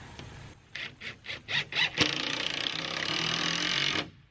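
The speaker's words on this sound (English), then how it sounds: "So I'm just going to go through here and fill this in with some screws until it feels nice and solid." Screws driven one after another through OSB siding on a shed into wooden studs: five short pulsing drill bursts, then a louder continuous whir lasting about two seconds, close and with no talk.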